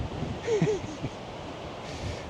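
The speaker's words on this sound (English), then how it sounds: "it's pretty windy, 45-mile-an-hour winds coming from the northeast" Strong 45 mph northeast wind buffets the microphone on the Cornish coast at Godrevy Lighthouse, a steady broadband rush with a brief stronger gust near the start and a faint tonal whistle.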